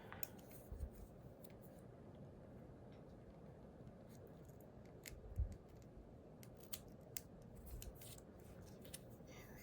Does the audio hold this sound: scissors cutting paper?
yes